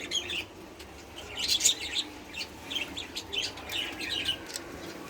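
Domestic pigeons, including paired birds perched on sticks, in a loft; several soft, fairly close calls and chirps come in uneven bursts over a low background hum.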